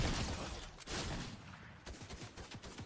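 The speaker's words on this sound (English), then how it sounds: "I'm gonna use the SMG this game." Rapid bursts of SMG fire in the video game Fortnite, a dense chattering volley up front that breaks off, then picks up again in shorter spaced shots, loud and close with no talk over it.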